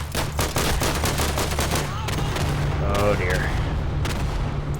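Explosions and heavy gunfire from a multiplayer first-person shooter match in realism mode, loud repeated blasts and bursts in the first two seconds over a steady rumble, then distant chatter of fire while a voice speaks briefly.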